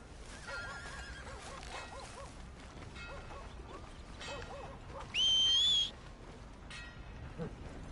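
A horse whinnies amid busy game-world background noise in Red Dead Redemption 2, with a brief loud high-pitched squeal partway through.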